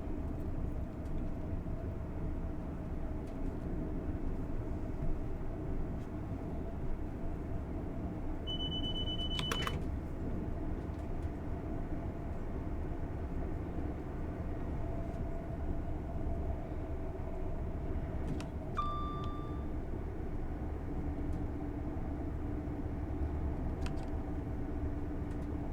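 A Lumo train runs at a steady 100 mph on a slight falling grade in Train Sim World 5, with a loud, continuous rumble of wheels and traction. Two brief electronic tones sound over it, and no one speaks.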